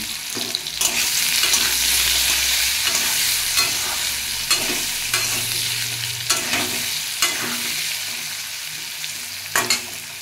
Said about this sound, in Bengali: আলুগুলো আমার লাল লাল করে ভাজা হয়ে গেছে